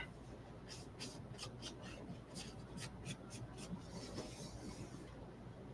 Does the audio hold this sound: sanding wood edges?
yes